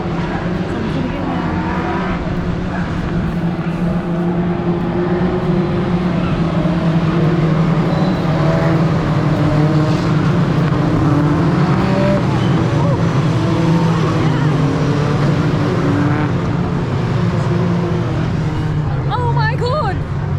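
British Touring Car Championship cars run behind a safety car, a continuous loud engine drone rolling past, with people talking over it throughout.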